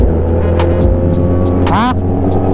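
Big motorcycles passing on a road with a loud, continuous engine roar close by and a rising whine as one goes past; people talk over it.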